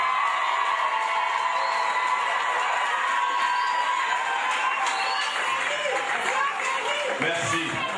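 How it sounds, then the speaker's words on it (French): A crowd at a speech cheers loudly, a steady wash of shouts, whoops and chatter at constant volume throughout, with some voices louder near the end. "Acclamez très fort pour vous ce soir"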